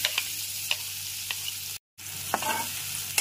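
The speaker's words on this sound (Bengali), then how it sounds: "পেঁয়াজটাকে এরকম হালকা বাদামি করে ভেজে নিতে হবে।" Chopped onion fries in a pan for masala macaroni, a close, soft crackling sizzle punctuated by a few sharp spatula stirs and a brief silent gap.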